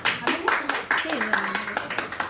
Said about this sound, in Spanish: Pues un aplauso a los papás de Mateo.